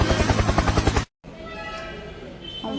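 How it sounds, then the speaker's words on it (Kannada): A helicopter in Bangalore gives a loud, close, rhythmic rotor chop for about a second. It cuts off abruptly and a murkier background follows. "helicopter helicopter"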